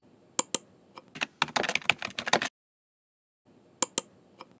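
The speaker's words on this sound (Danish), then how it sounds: "Udfyld felterne, som du plejer, og klik Log på." Short bursts of clicking keystrokes on a computer keyboard as login fields are filled in, a few isolated taps followed by a quick run of typing, close and crisp over near silence.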